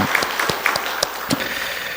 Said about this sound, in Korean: 우리 청년들에게 축복의 박수 해드리겠습니다